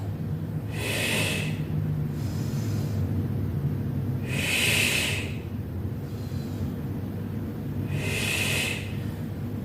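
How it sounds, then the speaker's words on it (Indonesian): Three slow, audible in-breaths come at even intervals during a joint-mobility exercise for people over forty, each a soft airy hiss over a low background hum. "Ya, ambil nafas."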